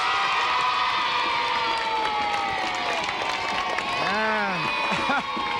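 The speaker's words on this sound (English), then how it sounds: "A little applause from the people at the Concord as well." A crowd of onlookers cheers and applauds for a world champion boxer during a televised training session, a steady wash of clapping and shouts with someone talking over it.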